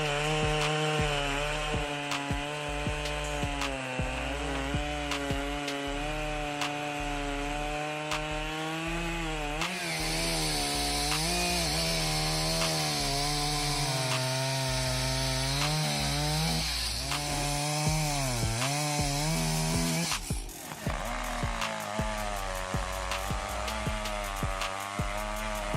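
A chainsaw drones steadily as it cuts through large wood at a sawmill, its engine pitch dipping and rising under load, with a harsher rasping stretch in the middle before settling again.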